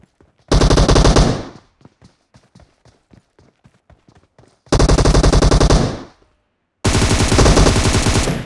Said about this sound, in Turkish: Sabahtan beri burada tek tek sıkıyorsun.